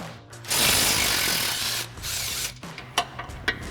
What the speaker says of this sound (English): So we'll grab our 15 mil socket and extension on our impact.